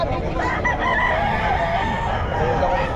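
A young gamecock stag crows at the Bocaue pet market, its call rising over a dense, constant crowd and market din with other fowl clucking nearby.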